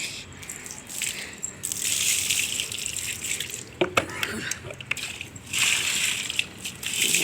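Water splashing and sloshing from a tap on a rooftop while plants are watered, a bright hissing flow that comes and goes in bursts with a few knocks and clunks in between.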